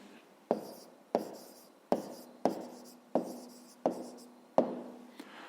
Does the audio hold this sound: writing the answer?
yes